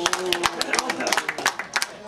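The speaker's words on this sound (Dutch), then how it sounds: "Applaus." A small group claps in sharp, irregular bursts over about two seconds, with voices talking and calling out throughout.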